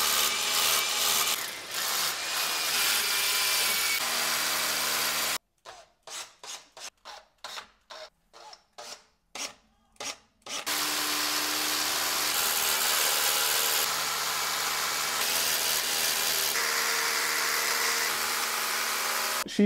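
An electric drill bores holes overhead above a large home aquarium to fit light rails, running in long loud grinding stretches with a burst of short stop-start pulses in the middle.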